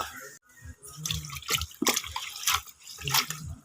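Something being washed under a running tap, with irregular splashing and dripping water close by, in bursts over a few seconds with no talk.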